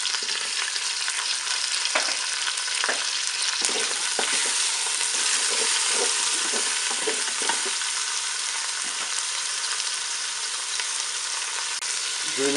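Onions frying in a Cookeo multicooker for beer-braised pork roast: a continuous loud sizzle with occasional stirring scrapes and taps, steady from start to finish.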